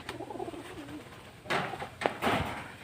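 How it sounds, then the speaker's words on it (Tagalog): A pigeon coos close by in short soft bursts, a few low throaty calls over faint background noise. "Mga kalapatid, ito pa yung kalapate natin."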